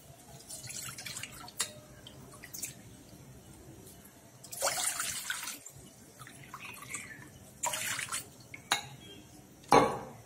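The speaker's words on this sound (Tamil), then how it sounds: "ஒரு கடாய் அடுப்புல வச்சு இதுல தண்ணி விட்டுக்கலாம்." Water is poured into a kadai on the stove for rava kesari in a few short, splashy bursts, with light clinks from the pan between them and no talking.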